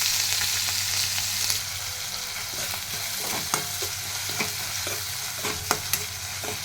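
Chopped onion with cumin seeds and curry leaves sautéing in a pan for a Simla mirch (capsicum) bhaji, a steady close sizzle broken by sharp clicks and scrapes of a spoon stirring.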